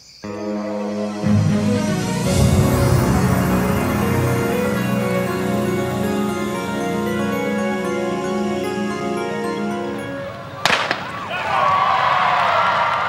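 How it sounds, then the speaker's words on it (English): At the start of the Boston Marathon, a single sharp starting-gun crack bursts out near the end, loud and abrupt, over sustained tonal music and a broad crowd wash. "The starting gun of the Boston Marathon, one of the world's premier sporting events."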